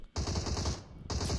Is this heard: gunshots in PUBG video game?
yes